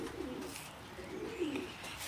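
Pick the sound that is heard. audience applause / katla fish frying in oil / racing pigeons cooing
racing pigeons cooing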